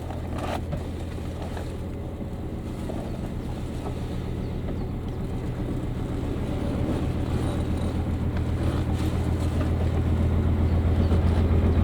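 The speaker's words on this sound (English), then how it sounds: "here's an old working boat coming past" A low, steady engine chug rumbles throughout, slowly growing louder as an old working narrowboat draws near, with faint wind in the background.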